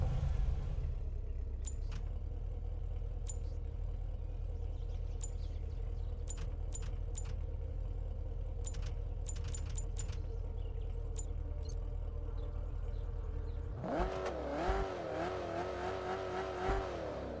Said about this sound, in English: I do think the car noises are a bit quiet.